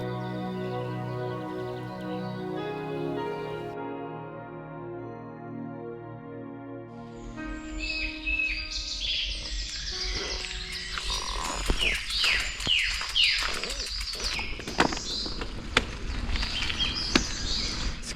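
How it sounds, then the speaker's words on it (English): Along a bike route, birds call and chirp in a lively chorus with sharp sweeping notes and clicks, near and fairly loud after a stretch of tonal humming sounds. "Crazy all the birds you hear along while you're riding."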